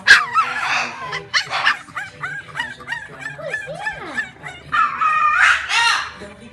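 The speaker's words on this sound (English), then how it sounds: "What are you barking at?" A French bulldog puppy barks and yips up close in loud, varied bursts, mixed with whimpering, squeaky vocal sounds, while a person talks over it.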